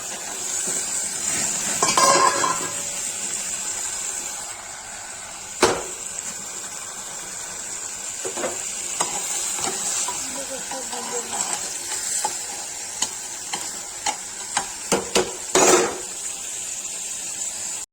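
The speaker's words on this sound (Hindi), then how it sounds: "तो मटर भूंजेगा, पनीर डाल देंगे।" Peas and paneer roasting in a pan for a Kashmiri matar paneer, a constant sizzle and hiss punctuated by sharp scrapes and clinks of stirring against the pan, with occasional talk over it.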